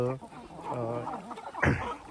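Newly hatched native country chickens cluck and peep on a poultry farm, with soft repeated calls and one sharper squawk near the end, mixed with someone talking.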